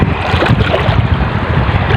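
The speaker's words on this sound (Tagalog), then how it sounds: "At malalaki yung alon." Big sea waves rolling against the shore at low tide during a fishing trip, a loud continuous surf roar with heavy wind rumble buffeting a nearby microphone.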